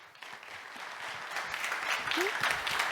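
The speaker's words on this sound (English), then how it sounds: "Give them a big applause." Audience applause welcomes speakers onto a conference stage, a broad, even wash of clapping from a crowd that swells slightly toward the end, with a voice faintly present underneath.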